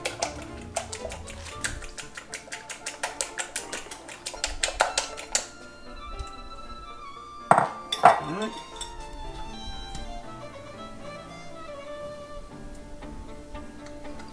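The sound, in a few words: whisking four eggs in a bowl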